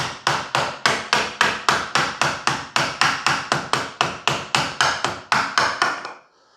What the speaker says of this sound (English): Trusty hammer, always good for a few things.